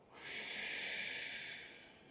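A single slow exhale during yoga breathing, a soft airy rush lasting about two seconds that swells and then fades, close and faint, with no talk.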